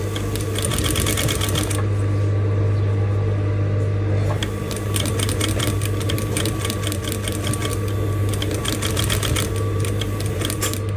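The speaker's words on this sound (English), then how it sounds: "So I'm going to continue stitching it till I get to the end like this." A sewing machine stitches surface cording onto a dress, its motor giving a steady, close whirring buzz with rapid needle clatter that runs almost unbroken throughout, with no talking.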